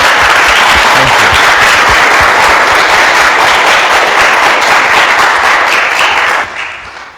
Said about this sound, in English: Let us give an applause to them.